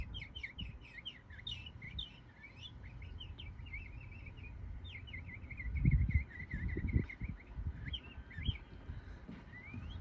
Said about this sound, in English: It can still move its wing, but the bird is young still.